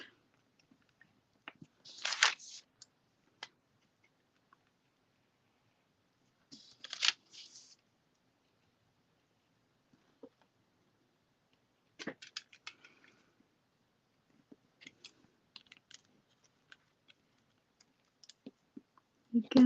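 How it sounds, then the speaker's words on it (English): A craft blade cutting a round shape out of paper in small careful strokes, producing soft scraping bursts separated by silent pauses, close and quiet. "so I'm moving the paper, keeping the blade in, cutting a little bit at a time."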